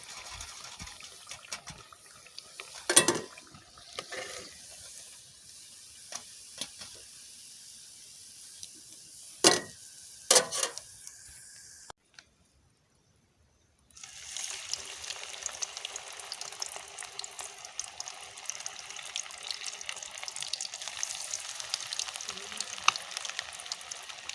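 Banana flower vada deep-frying in hot oil gives a steady bubbling sizzle, broken early by a few sharp clinks and a brief silent gap before the frying hiss returns loud and constant.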